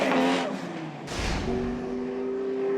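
A Nissan R34 Skyline chases a 180SX in a drift battle at a Christchurch round of D1NZ; engines rev hard with a sharp surge near the start, then sustained high-pitched engine tones, fairly close and loud.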